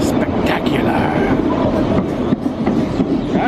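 Excursion train cars in Skagway rumble along the rails with rhythmic clickety-clack, loud and close, while people talk over the noise.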